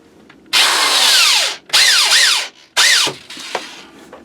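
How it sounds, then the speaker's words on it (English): A power drill driving a screw whirs in three bursts, rising and winding down each time, close by with no talking. "My drill."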